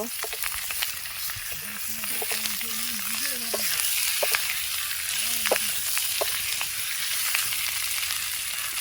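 Tomatoes go into a hot pan for outdoor picnic aloo dum, frying with a steady sizzle and occasional stirring scrapes and clicks while a voice hums or speaks faintly in the background.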